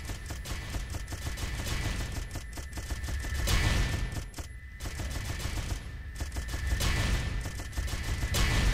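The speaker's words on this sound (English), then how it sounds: "See how slower that gun is shooting though?" Rapid gunfire from the Judgment Day video game, a dense, fast fusillade of shots rattling continuously with brief lulls, loud and alone with no talk.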